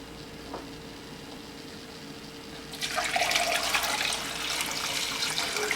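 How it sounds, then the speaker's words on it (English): Water pouring into a pot of pumpkin set over medium heat, a steady splashing stream swelling midway and continuing, close and alone without talk. "and I'm adding the water."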